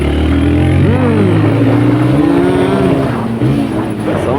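A motor vehicle drives past on a road near a tourist spot in Chikkamagaluru, its engine loud and close with rising and falling pitch throughout, while voices talk over it.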